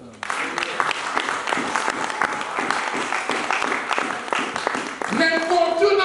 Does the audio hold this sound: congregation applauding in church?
yes